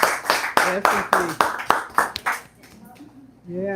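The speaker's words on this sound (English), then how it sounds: "please, a round of applause for Chef Kristen." Audience members clap for a chef at a health-cruise information presentation: a short run of about ten sharp, fairly close claps that stop after a couple of seconds, followed by people talking.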